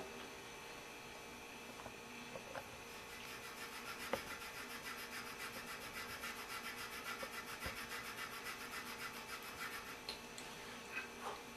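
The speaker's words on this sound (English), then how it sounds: "You can use the drywall sandpaper or the regular wood sandpaper." Cork being sanded by hand with drywall sandpaper, a steady continuous rasping rub with a fine even grain and a few small knocks, close and moderately quiet.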